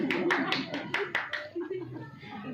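A scattering of sharp claps from a congregation, several distinct hand strikes in quick succession early on, then fading as a voice carries on speaking over the room.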